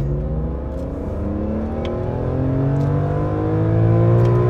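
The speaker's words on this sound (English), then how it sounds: "Has a good sound for a BMW." A BMW E46 M3 engine revs steadily, its pitch climbing in smooth rising harmonics and growing louder toward the end, heard from inside the car with no talk.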